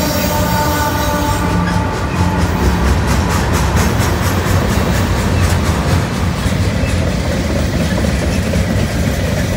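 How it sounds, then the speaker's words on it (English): A long Norfolk Southern westbound gondola freight train rolls steadily past, wheels clattering in a dense rhythmic beat with a faint metallic squeal, loud and continuous throughout. "A gondola train's coming in"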